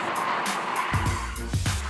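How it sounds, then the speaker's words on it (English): Car spinning 180 degrees with the handbrake during a driving challenge, engine revving in bursts with tire noise, close and moderately loud. "Canada's worst drivers have learned how to do a 180-degree spin out by using their handbrake."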